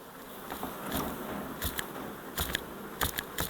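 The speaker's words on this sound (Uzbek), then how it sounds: "Endi bu oilani o'zini arilarini o'ziga qoqaman." Honeybees buzzing as they are shaken off hive frames during spring colony work, a low steady hum broken by several sharp knocks and rustling bursts.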